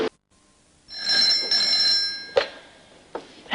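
A telephone rings indoors with one long, bright electronic trill lasting over a second, then a couple of sharp clicks as the handset is handled.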